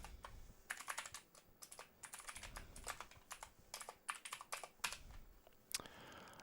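Quiet, close typing on a computer keyboard, a steady patter of clicky keystrokes in uneven bursts with short pauses, ending with a single sharper key press.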